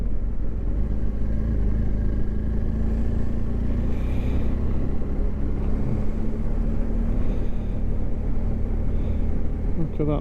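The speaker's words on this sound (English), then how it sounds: "Traffic jam." Road traffic jam near the Pennine Way, heard as a steady low engine rumble from idling and slowly moving vehicles, continuous and fairly loud from inside a car.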